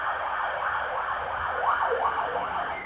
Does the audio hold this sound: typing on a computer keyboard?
no